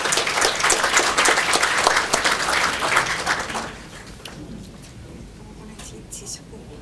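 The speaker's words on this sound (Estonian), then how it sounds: "kutsume aplausi saatel siia Aive Hansson" Audience applause at a work-based learning practice conference, loud and steady for about three and a half seconds as a speaker is invited up, then fading to a quiet room with scattered faint claps.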